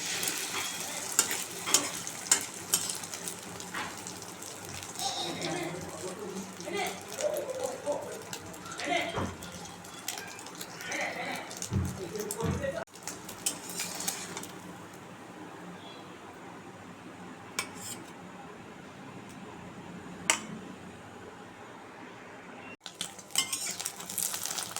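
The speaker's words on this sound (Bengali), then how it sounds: "ডিমের অমলেটটা আগে ভেজে নিচ্ছি।" An egg omelette fries in a pan, a soft sizzle mixed with scraping utensil and pan clatter, and someone talks over much of it.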